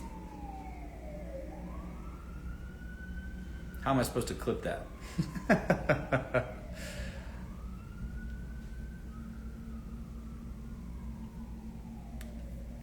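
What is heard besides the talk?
fire truck siren passing by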